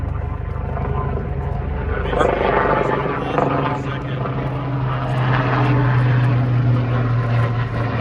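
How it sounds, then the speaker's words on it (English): A helicopter drones steadily overhead with a low rotor thrum throughout, while people talk faintly underneath. "That's a helicopter."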